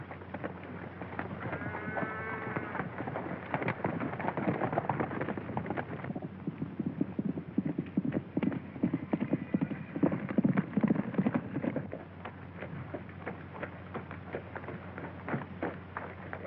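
Horse hooves clip-clop at a steady rhythm as a rider travels in an old Western film set in Arizona, the sound close and moderately loud over a low background hum, with faint bleating-like tones early on.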